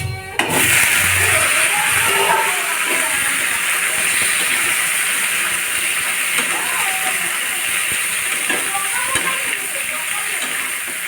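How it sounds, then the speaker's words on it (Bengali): Bengali five-spice mix hits hot oil as a tempering for drumstick-leaf and lentil fritters, bursting into a loud hiss that settles into a steady sizzle running the whole time. "5 ফোড়ন দিয়ে দিচ্ছি"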